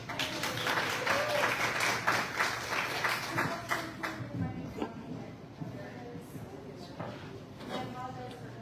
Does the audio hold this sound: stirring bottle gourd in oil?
no